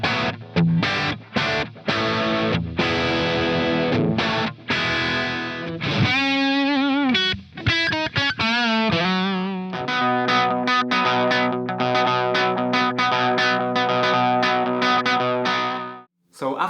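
A distorted electric guitar with a crunchy rock tone plays loud chords and riffs continuously, the crunchy sound staying prominent throughout.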